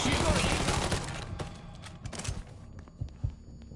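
Gunfire in Mafia 3, a dense fusillade of overlapping shots and bangs in the first seconds, thinning to a few scattered louder cracks toward the end, with someone talking over the fighting.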